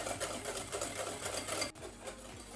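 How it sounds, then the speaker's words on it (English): Cream and milk whisked in a pan make a steady, rapid scraping rattle that runs continuously at close range, then drops briefly for a moment and carries on slightly quieter. "And keep whisking this, it will take a few minutes."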